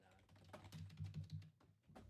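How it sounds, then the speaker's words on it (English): Rapid typing on a computer keyboard, a run of quick irregular clicks at moderate level with a low background hum, a brief pause near the end before a final keystroke. "Now my keyboard just stopped working, Steven."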